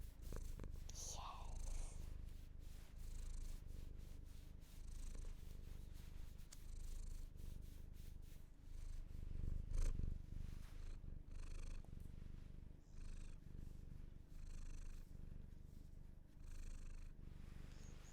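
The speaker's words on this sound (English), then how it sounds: "have you had enough of cat purring?" A cat purrs steadily and close up in a low, rumbling rhythm, with faint breathy pulses and a little soft movement noise throughout.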